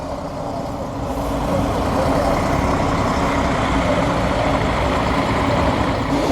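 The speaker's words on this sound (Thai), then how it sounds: "เป็นรถจากโรงแรมให้บริการนักท่องเที่ยว" A hotel shuttle bus for tourists in Bangkok rumbles loudly nearby, its engine idling and then swelling into a steady heavy drone that persists to the end.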